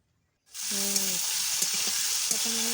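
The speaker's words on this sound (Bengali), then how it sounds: "এক এক করে সবগুলো উপকরণ আমি ভেজে" Carrot, capsicum and peas fry in a pan with a sudden onset of steady sizzling, dotted by a few light clicks and brief voiced sounds in the background.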